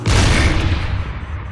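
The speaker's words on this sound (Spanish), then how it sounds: "No te haces una idea de la fuerza que tenía un cañonazo." A single deep, booming cannon blast from a World War II Tiger tank, loud and close, with a long rumbling decay and no voices.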